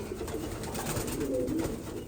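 Soft, low cooing of pigeons, steady and close, blending into a continuous murmur without talk.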